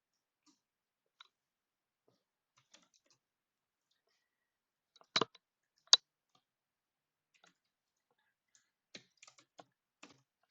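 Sparse, faint clicks of computer keyboard keys while React code is typed, isolated taps separated by long silent gaps, with a couple of sharper keystrokes midway.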